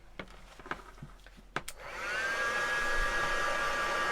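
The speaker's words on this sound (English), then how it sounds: "Give it a zap with a heat gun." A heat gun switches on after a few light taps and clicks, then blows with a steady loud whoosh and whine to dry craft paint on a small mixed media piece, no voices.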